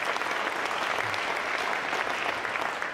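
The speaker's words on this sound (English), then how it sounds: "we should clap for that" Short, dense applause from an audience at a press event announcing Denver's NWSL team and its temporary stadium, a continuous wash of many hands clapping at once.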